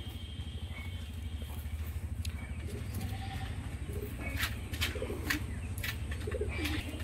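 A pair of Giribaz pigeons coo in low, steady, repeated phrases that run throughout, close by, with faint chirps and scattered light clicks and rustles on top and no speech.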